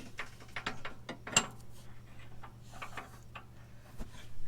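A ratchet threads a subframe bushing bolt into a 5th gen Camaro, giving close, irregular clicks and a few sharper metallic ticks over a low steady hum.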